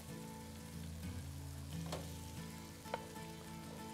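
Strips of onion and poblano pepper fry in a pan with a continuous close sizzle and crackle, and a couple of brief spatula scrapes break in.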